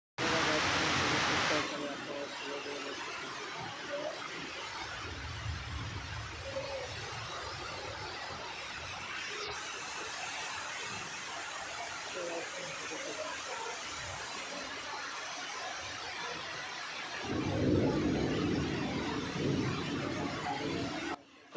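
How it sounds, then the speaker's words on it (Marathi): Heavy rain pours down near a village roadside shelter in a steady, dense rushing hiss that runs unbroken and loud for the whole stretch, swelling briefly near the start and end. "बघा किती पाऊस पडतोय"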